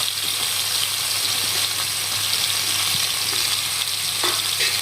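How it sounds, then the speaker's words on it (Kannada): Paneer cubes fry in hot oil in a pan, a loud and steady close-up sizzle with crackling throughout and a few soft stirring knocks, and no voices. "ಒಂದು ಸ್ವಲ್ಪ ಲೈಟ್ ಗೋಲ್ಡನ್ ಬ್ರೌನ್ ಕಲರ್ ಆಗೋ ಥರ ಫ್ರೈ ಮಾಡ್ಕೋಬೇಕು"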